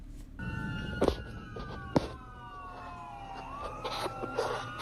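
Several video-game emergency vehicle sirens wail at once, rising and falling in overlapping tones, punctuated by a few sharp thuds.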